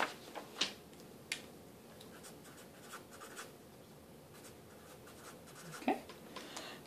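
A marker scratches on a board as forces are labelled during a vector components lesson, giving soft short strokes and a few sharper taps in an otherwise quiet room.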